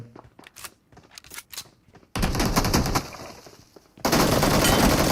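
Gunfire in the mobile battle royale game BGMI, with a sharp burst of rapid shots followed by two sustained, loud blasts of automatic fire that cut in abruptly and fill the foreground.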